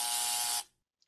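A buzzer sound effect triggered from a stream chat blares as one loud, steady, harsh electronic tone lasting about half a second, then cuts off abruptly, leaving near silence and two tiny faint blips.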